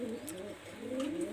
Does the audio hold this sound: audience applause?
no